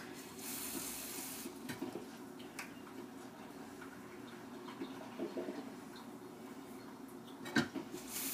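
A clean juice jug is filled with water toward its two-liter mark. The running, pouring water is soft and steady, with a few faint clicks and knocks.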